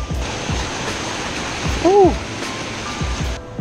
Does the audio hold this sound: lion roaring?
no